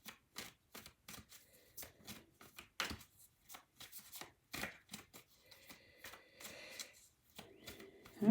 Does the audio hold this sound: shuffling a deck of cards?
yes